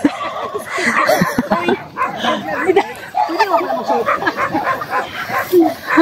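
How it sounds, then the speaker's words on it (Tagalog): Several dogs bark and yip at close range along a street, in repeated short bursts with a whimper, while people talk over them throughout. "Yun, may mga aso."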